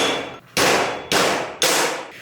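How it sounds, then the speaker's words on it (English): A large hammer drives a bearing race out of a 1977 GMC truck during suspension and steering work, four loud metallic blows in steady rhythm, each ringing out and decaying before the next strike. "I'm gonna take a large hammer and just beat the crap out of it"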